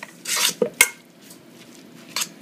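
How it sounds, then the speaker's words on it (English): Crab cake mixture being mixed in a bowl, with short bursts of utensil scraping and clinking against the bowl separated by pauses, close and fairly quiet. "Mix it all up."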